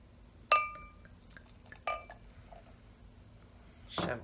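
Champagne glasses clink in a toast: one sharp bright ring, a second lighter tap a moment later, then a soft rustle, close and otherwise quiet.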